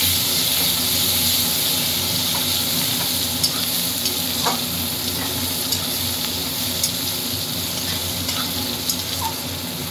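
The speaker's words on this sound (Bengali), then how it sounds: "এবার আমি পেঁয়াজটাকে ভেজে নেব" Onion fries in oil with cumin seeds in a pan for a tomato katla fish curry, producing a continuous dense sizzle and hiss that lasts throughout, with faint stirring ticks now and then.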